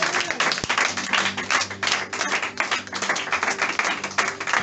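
A church congregation at a Sunday service claps and cheers for the Lord, sustained rhythmic applause with shouts and voices mixed in, loud and continuous throughout.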